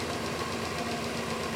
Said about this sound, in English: You see that the engine is now idling, waiting for our input.